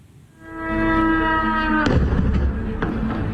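A heavy explosion from an Iranian drone strike on a US military base at Harir, Erbil, Iraq: a rising whine, then a sudden loud blast that rumbles on with smaller thuds behind it.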